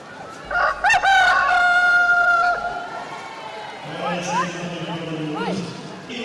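At a women's rugby sevens match in Clermont-Ferrand, a rooster crows loudly through a public-address speaker to end the match, its long call ringing out over crowd noise and commentary.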